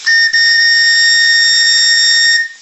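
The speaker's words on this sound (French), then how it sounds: "le sifflet a été réglé, ça marche tout seul" A steam whistle on a live steam model launch, a Maximae boat, sounds one loud, steady, piercing tone that holds for over two seconds before stopping. It is close and heard without any talk.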